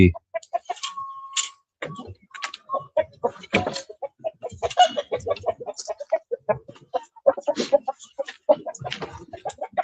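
A rooster crows while chickens cluck and squawk in short, scattered bursts nearby in a chicken coop, with occasional rustling and no talking.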